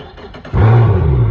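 A Yamaha 200 to 250 SHO outboard engine, just after an oil change, cranks and catches, jumping from quiet cranking into a loud, close, steady mid-pitched idle.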